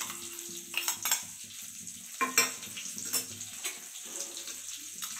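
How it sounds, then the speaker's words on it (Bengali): Water poured over ground spices and tomato paste in a bowl while cooking a Bengali fish curry, giving a close, uneven splashing and stirring sound with a few louder clinks, alone without talk. "আর এখানে আমি সমস্ত মশলাগুলো একটা বাটিতে জল দিয়ে ঢেলে দিচ্ছি"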